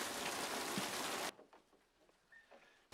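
Heavy rain pours steadily in a 1960 Psycho film scene, a loud dense hiss that cuts off abruptly partway through, leaving quieter faint sounds.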